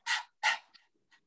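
A man imitating a dog's panting with his voice: two quick breathy huffs followed by softer fading breaths, close and alone.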